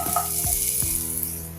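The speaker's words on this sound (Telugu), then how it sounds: "ఆయిల్ కొంచెం వేడి కాగానే కట్ చేసుకున్న ఆనియన్స్ వేయాలి." Chopped onions sizzling in hot oil in a pan, a steady close crackle with a few soft stirring scrapes, short and unbroken.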